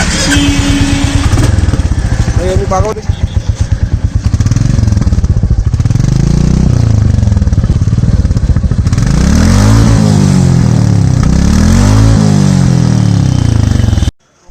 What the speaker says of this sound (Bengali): আমি যে স্টক এক্সস্ট রয়েছে তো সেটা আওয়াজটা শুনিয়ে দিচ্ছি।